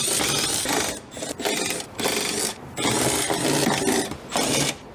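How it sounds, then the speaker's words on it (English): A ratchet wrench with an 8 mm socket loosens bolts on a Tesla Model 3 door, giving close, loud bursts of rapid clicking in about five separate runs with short pauses between them. "These are going to be 8 mil bolts, so we're using an 8 mil socket."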